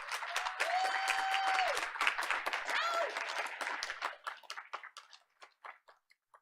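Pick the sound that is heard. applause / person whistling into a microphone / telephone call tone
applause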